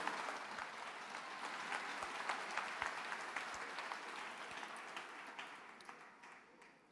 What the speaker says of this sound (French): Clap your hands and thank the Lord.